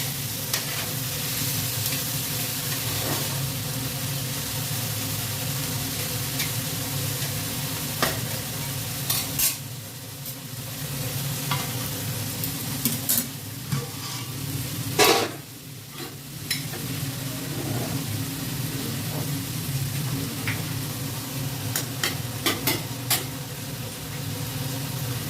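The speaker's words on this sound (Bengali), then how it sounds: "কড়াইতে মাংস দিয়ে দেওয়া হয়েছে, এখন মাংস কষানো হচ্ছে।" Chicken being braised and stirred in a hot wok after onions have browned, with a steady sizzle and frying hiss throughout and a spatula scraping and clattering at intervals, close and continuous.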